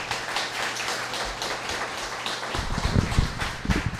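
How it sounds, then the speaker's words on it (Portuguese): A church congregation breaks into applause, a dense, steady patter of many hands clapping together, fairly loud and close, that swells in its final seconds. "Deus merece uma salva de palmas?"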